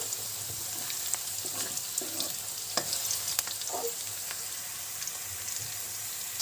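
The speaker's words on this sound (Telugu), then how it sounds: "మనకి ఆనియన్స్ అనేవి ఫ్రై అవుతున్నాయి ఆయిల్లో" Onions fry in oil in a kadai, salted while cooking, giving a soft, steady sizzle with occasional light stirring scrapes and clicks; no one speaks.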